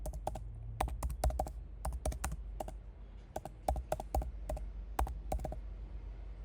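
Typing on a computer keyboard while entering data in task management software: a close, steady run of crisp key clicks in quick clusters with short pauses, alone with no talking.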